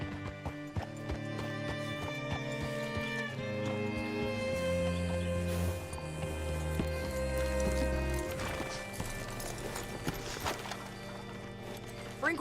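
A horse's hooves clip-clop in the video game Red Dead Redemption 2, a steady close trotting rhythm under a low droning score, without speech.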